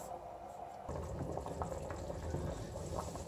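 Pea soup with potatoes simmering in a pot gives a steady, close bubbling hiss that thickens after the first second and then holds an even, busy texture throughout.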